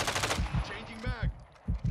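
Gunfire in the Modern Warfare 2 beta, a burst of rapid automatic shots followed by a few more loud bursts close by, with a brief voice in the mix.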